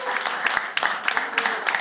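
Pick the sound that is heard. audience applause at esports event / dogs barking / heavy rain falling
audience applause at esports event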